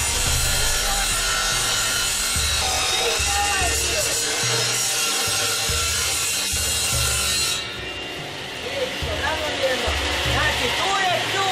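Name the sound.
wood saw running, cutting wood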